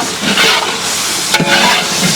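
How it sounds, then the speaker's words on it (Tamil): Ginger garlic paste, a kilo each, frying in a large pot for street-style vegetable biryani, giving a steady close sizzle with a couple of brief stirring scrapes near the middle. "பாருங்க, இஞ்சி பூண்டு நல்லா வதங்கிடுச்சுங்க."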